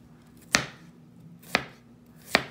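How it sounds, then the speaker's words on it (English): Three evenly spaced, sharp knife chops through potatoes onto a cutting board, close and distinct, each a crisp thud with quiet room hum between and no talking. "Now we chop."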